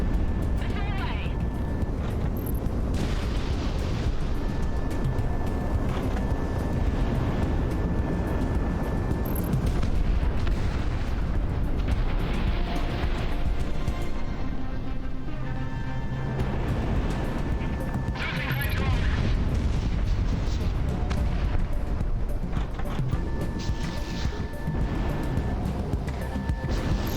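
Missile launch and explosion in the aerial combat game Project Wingman, a loud, continuous rumbling roar with dense booming blasts and engine drone throughout, under a voice speaking.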